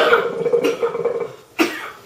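One person coughs on hookah smoke, a fairly loud, raspy fit of hacking nearby, followed by a short, sharp second cough.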